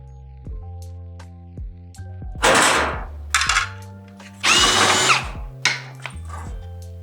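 A power drill or screwdriver removes the screws from the panels of an Imperial indirect-heat fryer, with two long whirring bursts and several shorter buzzes, mixed with clanks and metallic knocks from handling the panels.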